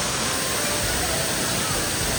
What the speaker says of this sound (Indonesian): Ternyata kita udah sampai air terjunnya. Air terjunnya di depan.